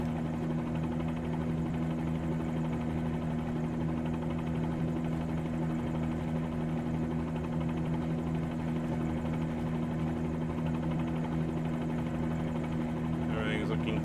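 A Bell 47G helicopter's engine and rotor drone steadily throughout, a loud, constant low hum with a buzzing rotor beat heard close up from inside the cabin during sightseeing flight near Long Beach.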